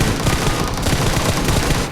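Dense, continuous automatic gunfire from the PUBG video game, a sustained loud burst of rapid overlapping shots that carries on for nearly two seconds before easing off at the end.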